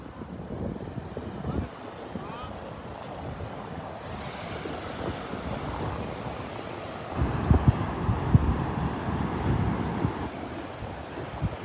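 Surf breaking on a Gulf beach at Delnor-Wiggins, with steady wind buffeting the microphone and a continuous wash of waves that swells louder near the end; no one speaks.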